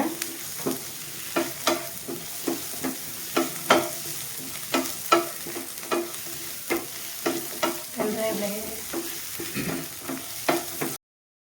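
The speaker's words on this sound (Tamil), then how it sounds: "வெங்காயம் போடுறோங்க சின்ன வெங்காயம் கொஞ்சம் வேகணுங்க" Small shallots frying in a pan while being stirred, for a quail egg thokku: a steady sizzle broken by regular scraping stirs, close and moderately loud, with no talking.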